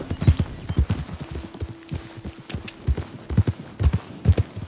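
A black horse in Red Dead Redemption 2 clip-clops with steady, rhythmic hoofbeats close by, joined by a brief whinny, with no talking over it.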